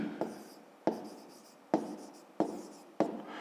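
A pen or pencil writes out a fifth-grade maths exercise solution on paper. Five sharp taps mark the start of each stroke, and a soft, close scratching runs between them. The writing is heard alone, with no talk over it.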